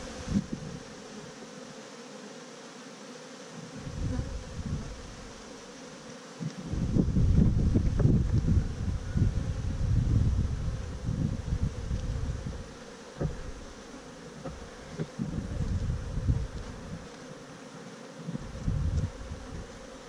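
Honey bees swarming around an opened hive during a July inspection, a loud continuous buzz that swells midway with gusty, rustling bursts close to the microphone.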